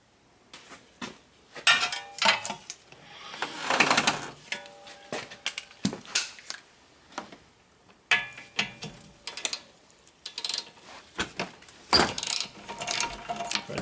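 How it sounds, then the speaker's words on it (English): Metal ratchet clicks and clanks while removing hub assembly bolts on a Chevrolet Malibu during a wheel bearing replacement, close and sharp, coming in irregular bursts separated by brief pauses. "I'll sit you guys here while I remove those bolts"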